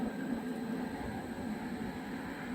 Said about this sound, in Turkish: Pompamız start aldı.